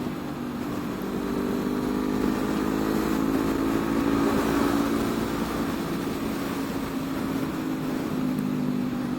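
Honda CB500F parallel twin motorcycle engine riding in traffic, a steady loud droning hum with continuous wind rush and no speech.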